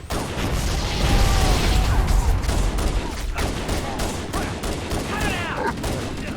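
Sustained rapid gunfire from Halo: Combat Evolved 20th Anniversary, a dense loud fusillade with battle noise and sounds of combat continuing throughout.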